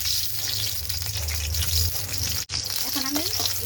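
Sliced onions hitting hot oil in a pan, a steady close sizzle that runs throughout, with a brief dropout and then a voice speaking over the continued frying.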